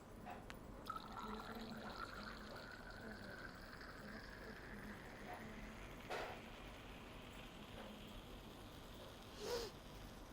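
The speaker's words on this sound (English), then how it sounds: "the remaining we are going to dilute it with double distilled water" Double distilled water poured steadily into a container to dilute apple extract in a lab, a soft continuous trickle with faint dripping, quiet and close, with a few light clinks of glassware.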